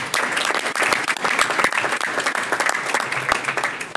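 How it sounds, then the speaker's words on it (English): Sustained applause at a city council meeting for a group of young women from a charity league, dense and loud clapping filling the whole stretch with no pause. "Let's hear a big round of applause for the"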